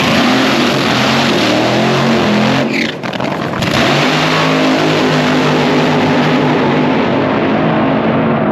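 An Altered-class drag race car accelerating down the strip, a loud roaring engine dominating throughout with a brief dip near the middle before the roar resumes, heard close from the staging lanes.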